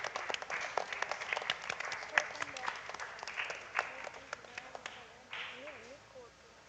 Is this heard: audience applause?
yes